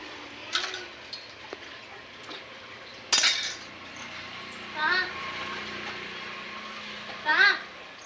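Dishes being washed by hand at home, with faint clinks of cutlery and pots at scattered moments, including a sharper clatter near the middle, under soft background talk and ambient noise.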